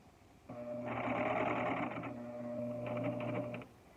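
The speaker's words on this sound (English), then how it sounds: "I'm going to go ahead and I'm going to start sewing my side like normal." A sewing machine runs along the side seam of a romper made from an upcycled t-shirt, stitching in two steady motorized bursts with a brief slowdown between them, close and loud with no talking.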